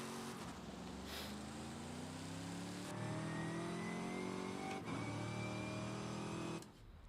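A car engine in Forza Horizon 5 revs and accelerates loudly and continuously, pitch climbing through gear changes with a brief drop near the end, with no talk over it.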